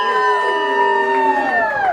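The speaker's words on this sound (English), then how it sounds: "Everyone over here, scream and cheer! Woo!" Audience section at a live theater show screaming and cheering on cue, many high sustained voices blending into a loud, continuous shriek that wavers and tails off at the end.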